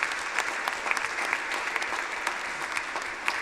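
Audience applause for Father Makri at an Easter Sunday church gathering, a steady dense patter of many hands clapping with scattered sharper claps, moderately loud and continuous throughout.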